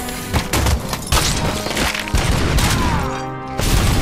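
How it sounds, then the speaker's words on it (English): Explosions in the video game RoboCop: Rogue City, a series of sharp booming blasts and crashing debris hits arriving in uneven bursts, loud and close, interspersed with gunfire-like cracks. "I don't understand where these explosions are coming from."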